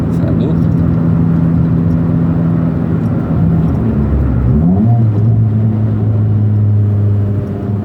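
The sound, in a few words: Chevrolet Celta 1.0 with cold air intake driving fast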